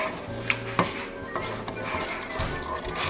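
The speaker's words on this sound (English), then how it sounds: "I'm going to go ahead and slice up the smoked sausages" A knife slices Wright brand Applewood smoked sausages for smoked sausage chili, giving a few sharp, close taps against a cutting board over a steady low kitchen hum.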